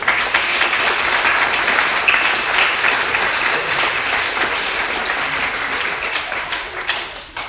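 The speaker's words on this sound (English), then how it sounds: "we should probably still give them a round of applause" Wedding guests give the caterers a round of applause, a sustained, full burst of many people clapping together that holds steady for several seconds before tapering off at the end.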